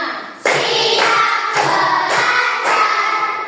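Schoolchildren in a classroom clap together in a steady counted rhythm, four or five loud group bursts evenly spaced, near and dense, with some voices underneath.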